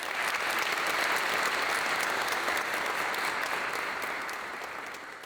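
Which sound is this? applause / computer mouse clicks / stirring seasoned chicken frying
applause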